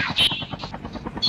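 A video game aircraft gives a short burst of rhythmic, rotor-like thudding with a hum, mixed with voices talking over it.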